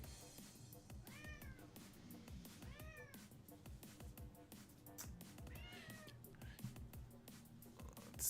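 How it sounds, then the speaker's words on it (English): Hungry cat meowing while waiting for food: several close, clear meows in a row, some drawn out, over a quiet background with faint low-level noise. "Meowing cat."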